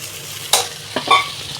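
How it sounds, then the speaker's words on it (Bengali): Fried lentil dumplings (bori) drop into a pan of vegetarian curry and are stirred, making a couple of brief clattering sizzles over a quiet, low simmer. "এবার এই ভাজা বড়িগুলো এর মধ্যে দিয়ে দিলাম"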